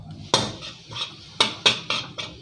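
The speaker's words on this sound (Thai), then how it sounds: "ผัดลวนหมูให้มันเซ็ตตัวให้มันหอมก่อนนะครับ" Sharp metallic clanks of a utensil scraping and striking a pan while stir-frying pork over medium-high heat, six distinct hits at an uneven pace, close and fairly loud with no talking.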